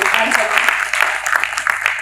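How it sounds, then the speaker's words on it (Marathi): Studio audience applause at an interview with Marathi actress Madurani Prabhulkar, a dense, close burst of clapping that fills the whole short moment. "टाळ्या जरा जास्त जोरात"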